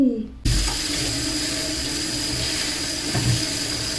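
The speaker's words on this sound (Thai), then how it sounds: "ผักทุกอย่างที่เก็บมาจากป่า เราจะต้องล้างเป็นอันดับแรกเลยค่ะ ไปล้างกันเลย" Tap water gushes steadily into a sink as wild vegetables foraged from the forest are rinsed, a loud continuous splashing rush that starts abruptly and keeps up close by with faint handling sounds.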